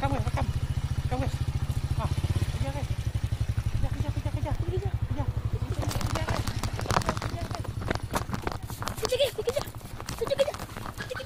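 Motorcycle ridden along a forest road, its engine putting out a steady rapid low thrum for the whole ride, loud and close, with rattling and wind noise over it and voices talking now and then.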